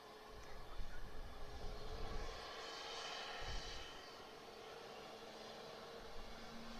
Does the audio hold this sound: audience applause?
no